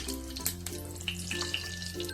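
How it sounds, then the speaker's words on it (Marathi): Oil sizzles quietly in a hot pan heated for a tempering. The faint crackle has small spits and pops through it, with no talk. "आपण चार चमचे तेल घालून घेऊया"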